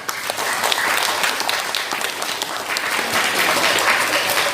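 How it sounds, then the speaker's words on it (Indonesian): Audience at an Islamic Quran memorization boarding school in Bekasi bursts into steady, dense applause, a loud crowd of many hands clapping continuously throughout with no talking over it. "Boleh tepuk tangan, silakan."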